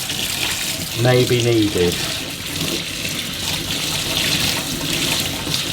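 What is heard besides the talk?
water flushed through Gtech AirRam vacuum part while rinsing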